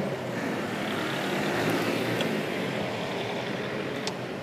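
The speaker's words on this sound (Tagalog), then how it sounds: "So nagkaka-traffic." Steady, dense rumble of road traffic in Santa Ana, Manila, vehicles passing nearby in a continuous wash of engine and tire noise, with a few faint higher tones.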